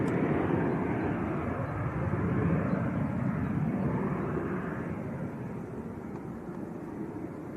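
A small Cessna Citation business jet takes off at Leeds Bradford Airport, its steady broadband engine roar swelling slightly early on, then easing gradually as it climbs away, with no voices.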